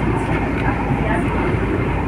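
Steady, loud rumble of an MTR train running toward the airport, heard from inside the carriage as a continuous low roar with no breaks.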